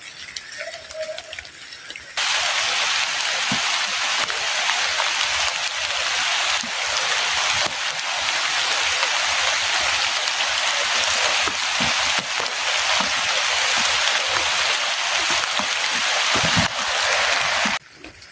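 Rain pours steadily onto a forest campsite, a dense hiss that swells after a quieter opening and holds constant, close and enveloping with no talk.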